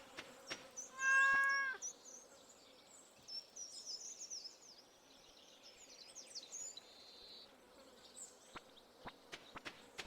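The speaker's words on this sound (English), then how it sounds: "Cat is there doing cat things." A cat in the farming game Stardew Valley gives a short, clear meow with a rising harmonic stack early on, followed by faint clicks and soft ambient game sounds with no talking.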